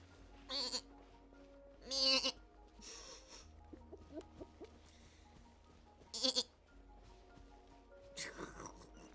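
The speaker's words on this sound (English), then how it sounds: "It's a goat." A goat in the video game Genshin Impact lets out several short, nasal bleats at intervals over a low, steady game soundtrack.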